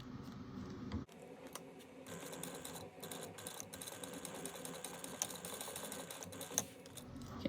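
A sewing machine stitches down a strip of webbing in a box-and-X pattern, a steady rapid mechanical chatter running close and continuous for several seconds after a brief pause at the start.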